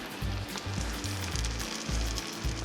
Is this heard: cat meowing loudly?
no